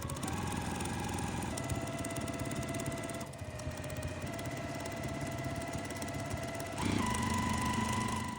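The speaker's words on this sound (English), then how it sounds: "we're going to sew 2 lines going the opposite direction right along those drawn lines" A sewing machine stitching quilting fabric along diagonal lines, running as a steady close mechanical whir and hum that shifts pitch slightly and speeds up near the end, with no talking.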